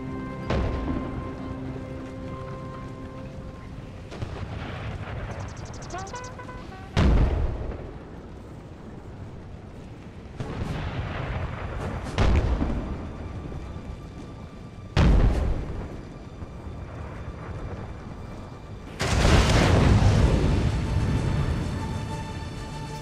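Heavy artillery fire in the Civil War strategy game NTW ACW, several loud booming cannon blasts spaced a few seconds apart, each with a rumbling tail over steady battlefield noise.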